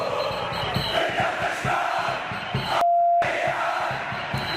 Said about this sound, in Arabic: الجماهير الزملكاويه، وكان الهتاف بتاعهم بيقول